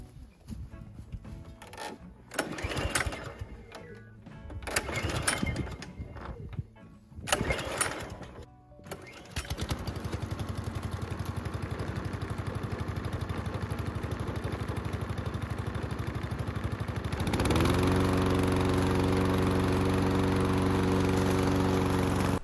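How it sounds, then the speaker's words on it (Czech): A Hecht four-stroke petrol lawn mower is pulled several times with sputtering, uneven bursts before its engine catches and settles into a loud, steady running drone close by. "Moc se mi nelíbil start té sekačky"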